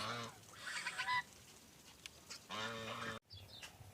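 Duck calls with harmonic honking bursts, two main stretches with a short pause, fairly close, over faint background noise.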